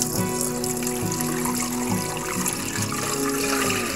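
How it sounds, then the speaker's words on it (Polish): Warm vegetable broth made from water and stock concentrate pours into a Monsieur Cuisine Smart food processor, a steady, close splashing and gurgling stream lasting several seconds without speech. "I teraz wlewam ten bulion, o który prosiło nas urządzenie."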